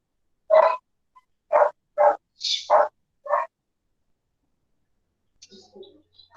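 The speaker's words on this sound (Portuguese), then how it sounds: "Tá com um cachorro em casa." A dog barking indoors at home, six short sharp barks in an uneven run, loud and near, followed by a few faint scattered noises.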